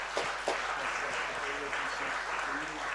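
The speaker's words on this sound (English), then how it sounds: "they all are deserving of your round of applause" Crowd applause at a women's open club softball championship grand final, a broad steady wash of clapping from a large gathering, heard alone without talk.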